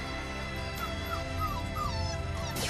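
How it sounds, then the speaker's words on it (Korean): A three-week-old puppy whimpers for its mother, high thin cries rising and falling several times over steady background noise, ending in a sharper yelp. "하루가 멀다 하고 어미를 찾아 낑낑대며 우는 칠복이"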